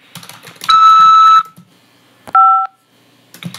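Two electronic tones from a prison collect-call phone system sound: a longer steady beep followed by a shorter one, with faint keypad-like clicks around them.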